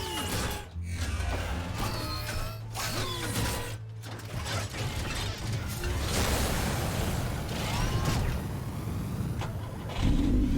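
Car engine in Batman: The Telltale Series revving steadily and close, with mechanical whirring and ratcheting layered over a continuous drone and a louder surge near the end; no talking.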